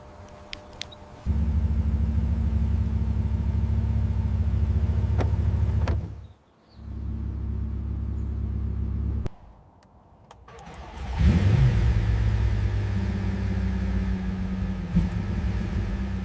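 A gold-finished Bugatti Chiron fires up with a loud, close engine start and settles into a deep, steady idle, which briefly drops away and resumes before the car revs and pulls off.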